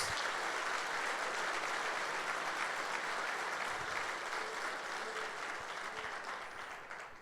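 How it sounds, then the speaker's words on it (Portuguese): A congregation at a Sunday church service claps in steady, dense applause that stays even throughout and fades slightly at the end, heard from a distance at low level. "Dá um aplauso aí ao Senhor Jesus"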